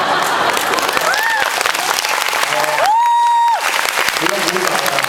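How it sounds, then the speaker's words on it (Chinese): Concert audience at a nature-living festival show breaks into steady, dense applause, loud and close throughout, with a sustained whistle or tone rising briefly above the clapping mid-way. "不用鼓掌了"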